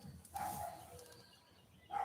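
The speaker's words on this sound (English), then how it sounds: "And Susu keeps barking at everybody." A dog barks nearby at people passing outdoors, one sharp bark followed by a second starting at the end, mid-loud above a quiet background hum.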